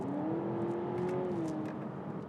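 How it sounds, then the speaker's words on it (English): A synthetic VTEC-style engine note from a 2023 Honda Civic e:HEV hybrid, played through the cabin speakers, rises in a steady whining tone under a constant road and motor hum. "you get a distinctly VTEC-esque sound pumped through the speakers"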